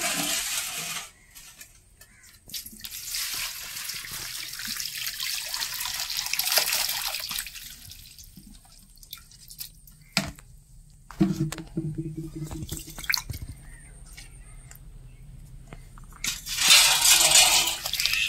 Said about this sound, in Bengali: তা মাছটা এখন ঢেলে নিই